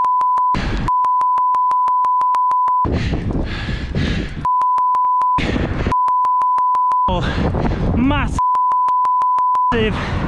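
Steady electronic censor beeps of a single pure tone repeatedly cut over profanity-laden speech, several long bleeps alternating with bursts of talking voices.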